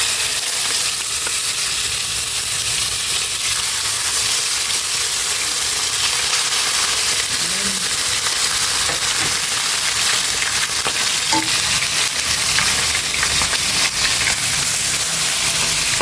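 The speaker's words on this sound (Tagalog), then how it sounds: "Prito ko muna bago ko gawing ginataang tulingan." Hot oil sizzles and crackles steadily in a pan as yellowfin tuna fries, a constant close hiss with a few faint pops.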